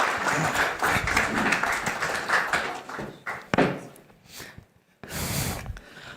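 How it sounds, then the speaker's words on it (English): Conference audience at a political forum applauding a guest's introduction; dense, fairly loud clapping fills the room, fading and then swelling briefly again near the end. "So please give them a round of applause."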